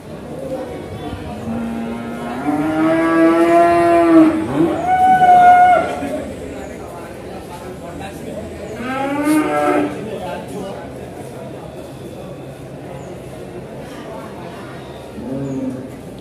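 Cattle moo loudly at a traditional livestock market in Kudus, Indonesia, where young beef cattle are traded; several long, deep calls rise and fall in the first ten seconds, with faint crowd chatter behind.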